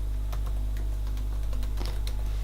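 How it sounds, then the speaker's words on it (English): Someone types a password on a computer keyboard, a short run of soft, quick key clicks over a low steady hum, close and fairly faint, with no talking. "I'm going to type a password"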